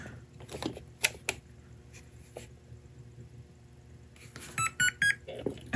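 An RC car's electronic speed controller gives a short series of faint, sharp electronic beeps at power-up, spaced in a quick rhythm after quiet stretches of small clicks.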